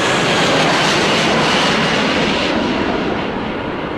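A fixed-wing airplane passes overhead with a loud, continuous broadband engine roar that fills the whole stretch, slowly easing off toward the end, with no voices over it.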